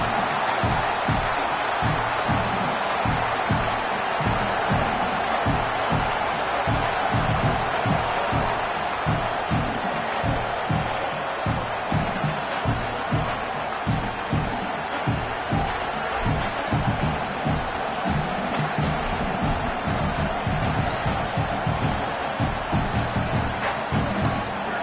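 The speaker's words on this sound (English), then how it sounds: "This crowd trying to make life miserable for this offense." A football stadium crowd at a UTSA vs North Texas game roars steadily and loudly throughout, a dense unbroken wall of cheering and shouting.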